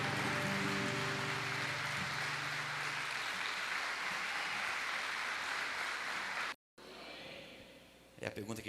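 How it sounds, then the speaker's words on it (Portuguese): Worshippers at a Lagoinha Caieiras church service clap together in a thick, sustained burst for about six seconds, then the clapping cuts off and a voice begins speaking. "Palmas para Jesus"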